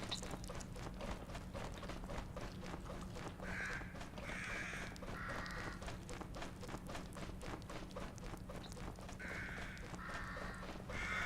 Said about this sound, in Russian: Ворона.